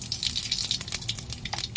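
Mustard seeds and cumin hitting hot oil to temper a tondli (ivy gourd) bhaji, giving a close, steady, dense sizzle with fine popping crackles throughout and no voices.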